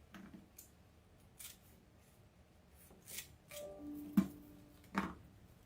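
Scissors trimming deco mesh for a holiday centerpiece, a few separate quiet snips and crinkles spread through an otherwise soft, still room, each cut brief and close.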